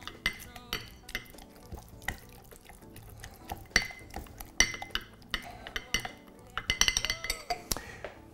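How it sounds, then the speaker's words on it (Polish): Fresh raspberries muddled in a glass for a gin cocktail: irregular soft thuds and taps with occasional glassy clinks and wet squishing, close and intermittent, building to quicker pounding near the end. "wygniotę świeże maliny, dodam syropu cukrowego"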